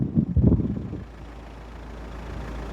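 A diesel car engine idles with a low, steady rumble under a louder, muffled burst of noise at the start, then settles into a quieter continuous hum.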